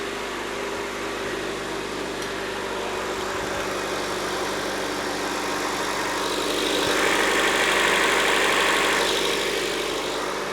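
A 2010 Honda CR-V engine idling just after an oil leak repair, a steady low mechanical hum with faint ticking, holding constant and growing slightly louder near the end, with no voices.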